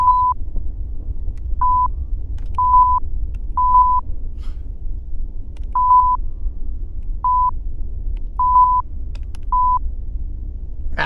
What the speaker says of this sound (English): We'll have to do more Morse code later.